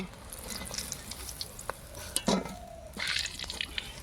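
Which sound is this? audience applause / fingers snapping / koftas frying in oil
koftas frying in oil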